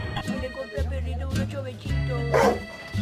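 A Chihuahua yaps in short, near, high-pitched barks and whimpers, heard alongside talking.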